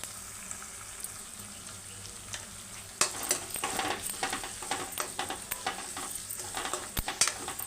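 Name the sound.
onions and curry leaves frying in a pan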